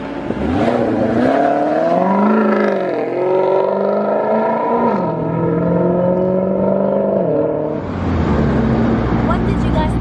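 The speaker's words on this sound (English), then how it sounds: "the Maserati sound is like no other. And this is what I call a noisy takeoff" A 2019 Maserati GranCabrio Sport engine roars through a loud, rising takeoff, its pitch climbing and dipping through gear changes for several seconds before dropping away into a rougher, lower rumble near the end.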